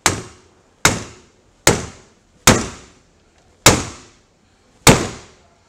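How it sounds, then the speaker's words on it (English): Six sharp, loud impacts from a Rob Allen speargun shaft during a misfire test at roughly 250 kg of force, evenly spaced about a second apart, each a violent crack that rings and decays quickly, with no voices. "see that's quite a violent hit"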